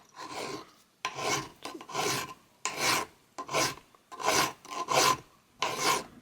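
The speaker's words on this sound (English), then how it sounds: "So now I have two new cotter pins filed down as closely matching the original cotter pins as I could make them." Metal file rasping down new cotter pins for a vintage Peugeot bicycle bottom bracket, about eight rhythmic back-and-forth strokes, close and harsh, with no talk.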